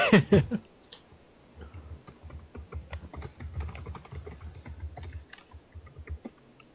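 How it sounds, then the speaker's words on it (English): Rapid clattering of laptop keys in uneven bursts, close and fairly soft, after a brief loud sound at the start. "Broken suddenly by Manny's typing on his fucking laptop"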